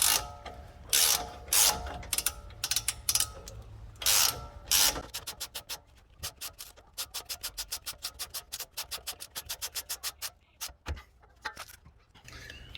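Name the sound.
adjustable wrench tightening bolt on lift kit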